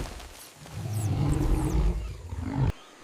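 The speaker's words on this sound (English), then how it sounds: "the alarm call roars" A howler monkey's deep, rumbling alarm-call roar builds and holds for a couple of seconds before cutting off abruptly, loud and close.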